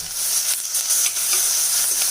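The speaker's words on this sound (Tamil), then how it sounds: "வெங்காயம் இந்த மாதிரி கொஞ்சம் கலர் சேஞ்ச் ஆகிற வரைக்கும் நம்ம நல்லா வதக்கிக்கணும்" Crushed small shallots sautéing in oil in a pan while being stirred, a loud close sizzle with steady frying hiss and occasional stirring scrapes.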